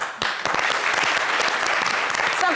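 Dense audience applause during a talk show, many hands clapping loudly and continuously, with a few sharper individual claps standing out near the start.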